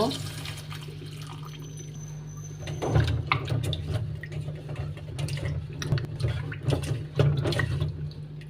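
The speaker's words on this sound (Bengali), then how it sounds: "এটা আমি এখন পরিষ্কার করে ধুয়ে নিব" Steady running tap water while food is washed in a kitchen sink, a continuous splashing hiss that gets stronger partway through, with someone talking over it.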